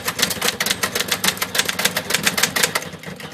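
Keys of a vintage Brother Eshelon 91 manual typewriter, made in Japan, clatter in fast, close, loud bursts of sharp strikes, a steady run of typing that ends in a jam, with no voices.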